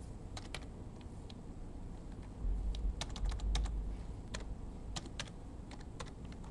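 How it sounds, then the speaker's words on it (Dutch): Keys clatter on a computer keyboard in an irregular series of quiet taps over a soft background hiss, the clicks coming in scattered clusters while someone types text for a website built in Flash MX. "ik mag gaan typen"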